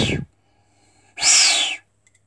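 Recorder flute blown with the wrong part covered, giving a short breathy note, a pause, then a longer shrill, wavering tone of about half a second, played alone and close.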